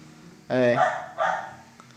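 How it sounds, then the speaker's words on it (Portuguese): A dog barks outdoors, heard indoors through a closed window, with two loud harmonic barks about a second apart, close enough to stand out clearly above a low room background. "esse cachorro que está latindo aqui, do lado de fora, sem parar"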